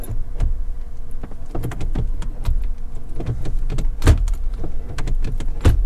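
The manual gear shifter of an Abarth 500 with tight shifter cables is worked into gear, giving a series of close mechanical clunks and clicks in an irregular rhythm over a low cabin hum.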